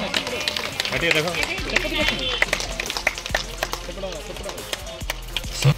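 At a farmers' festival held by State Bank of India in Raiboga, an audience claps in scattered, uneven bursts. A person's voice and crowd chatter run over the clapping throughout.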